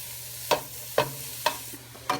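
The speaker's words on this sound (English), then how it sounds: "add in my zucchini noodles that I spiralized before. And then I'm gonna take some pasta tongs and just toss them until they're al dente" Zucchini noodles sizzle in a hot skillet, and pasta tongs toss them with four distinct scraping clatters spaced about half a second apart. The frying hiss stays steady underneath, and no one talks.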